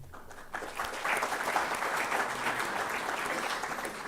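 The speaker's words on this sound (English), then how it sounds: "even boys are clapping." Students at an interaction programme with India's Vice-President break into applause, which swells suddenly after a quieter half-second and then holds as dense, steady clapping from a large crowd.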